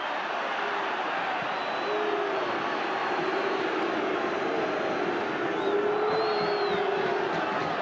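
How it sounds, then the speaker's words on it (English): A rugby crowd at the 1977 All Blacks versus British Lions test in Dunedin, New Zealand, sends up a steady, dense roar laced with scattered hoots and whistles that carries on without a break. "The crowd hooting this time."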